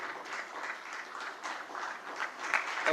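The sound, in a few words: audience applause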